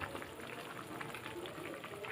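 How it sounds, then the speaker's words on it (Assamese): Raw papaya pieces boiling in hot water in a pot for Assamese khar, a faint, steady bubbling simmer that continues evenly without a break. "লগতে অমিতাখিনি উতলিবলৈ ল'লে"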